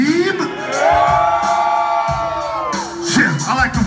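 A crowd at a live concert in Denver, Colorado yells and whoops loudly in a sustained burst of shouts and screams, close and overlapping, fading briefly and then rising again.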